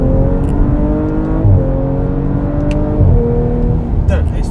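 A 2018 Audi RS4 Avant with S-Tronic gearbox accelerates hard around the Le Castellet race track, its engine note climbing steadily with quick upshifts, loud and close from inside the cabin and continuous throughout.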